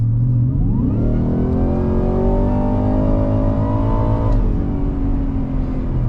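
A 2024 Ford F-150 Raptor R pickup truck accelerates hard and close, its engine note climbing steadily in a loud continuous roar, then dipping briefly at a gear change before pulling on again.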